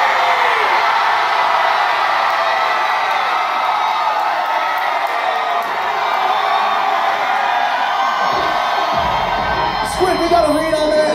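A packed concert crowd at the House of Blues in Cleveland screams together on cue, a loud, sustained roar of shouts and cheers that fills the whole clip and rises again briefly near the end.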